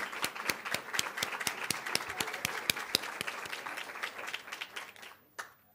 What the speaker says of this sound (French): ça vaut la peine qu'on vous applaudisse